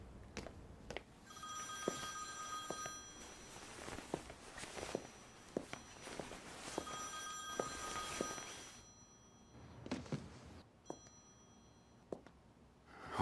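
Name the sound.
telephone ringing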